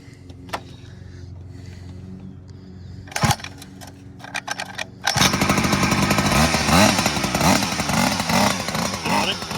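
Small engine on a homemade kitchen-stool racer, choke off: several seconds of quiet clicks and short pull attempts, then the motor catches and runs loudly, revving up and down close by.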